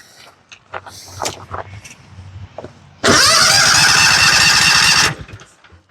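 A John Deere engine cranks and catches as its fuel pump delivers gas, bursting into a loud, steady run for about two seconds before cutting out, after scattered quieter clicks and handling noises.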